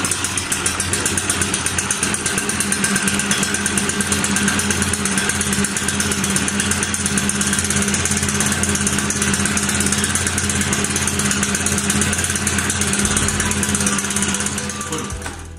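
A BR-600 machine engine runs steadily at a close, loud, even idle for about fifteen seconds after being started, then fades slightly at the end. There is no speech.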